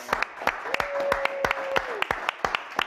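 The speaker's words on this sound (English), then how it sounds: "Give a round of applause, Miss Debbie Adams." A small studio audience claps for a guest, sparse, distinct handclaps in an uneven rhythm with a sustained tone and faint voices underneath, close and moderately loud.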